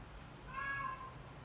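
A cat meows once indoors, a faint, brief tonal call rising out of quiet room noise.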